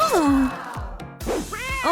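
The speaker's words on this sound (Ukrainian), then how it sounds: "Хороший котик." A cat meows several times in quick succession, close and clear, drawn-out and rising-falling calls with short pauses between them, alongside low sounds in the room.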